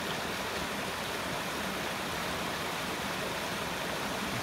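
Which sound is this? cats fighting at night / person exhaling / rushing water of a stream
rushing water of a stream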